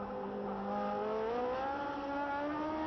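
A 1972 Formula 1 race car driven by Emerson Fittipaldi howls through the Rosier bend at the French Grand Prix, a loud sustained high-revving engine note whose pitch climbs and shifts as it passes close by.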